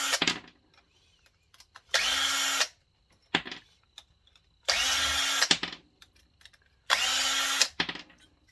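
A power drill backs screws out of a scrapped hot water thermostat in three bursts of whirring, each about a second long, close and loud, with clicks and handling noises between them.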